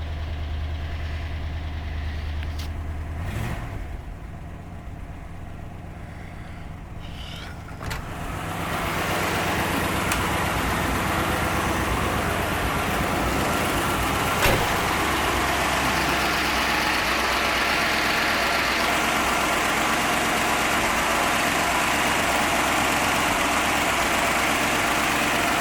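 A 55-year-old car with about 90,316 miles idles after a cold start. The low, steady engine drone is close, then grows louder and fuller partway through and holds a constant idle with no talking.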